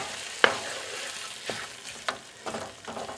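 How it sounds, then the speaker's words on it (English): Canned gravy being stirred into leftover pork roast in a pan, with soft scraping strokes of a utensil and a few sharper clinks over a low, steady sizzle. "Stir that in there nice."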